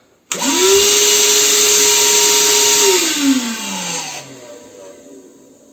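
The damaged motor of an Erbauer EVAC18-LI cordless vacuum cleaner whirs up to a steady high whine with a bright hiss, holds for a few seconds, then winds down unevenly, close by.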